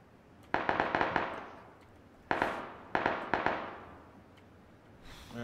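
In a PUBG match, bursts of distant gunfire crack out in quick clusters. A rapid string of shots comes first, then single reports and short volleys, and each echoes away across open ground.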